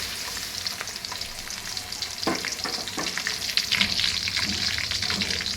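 Onion and green masala paste sizzle in hot oil in a pan for egg sambar. A steady close frying hiss runs throughout, with a few stirring scrapes partway through and no voices.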